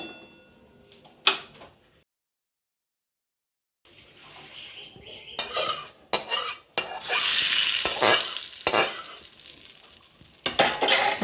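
Ghee with panch phoron and bay leaf sizzles in a pan for a Bengali dudh shukto, with bursts of frying hiss, spoon clatter and stirring scrapes broken by a brief silence.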